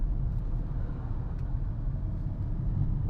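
A car rolls through Chennai traffic in second gear, a steady low engine rumble and road noise heard from inside the cabin, continuous and moderately loud with no talking.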